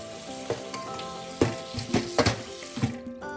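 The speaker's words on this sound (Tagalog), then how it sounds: "Scampi are basically clean, so wash them quickly." Scampi are rinsed quickly under a running kitchen tap, giving a close splashing water sound with a few brief clatters and knocks before it stops abruptly.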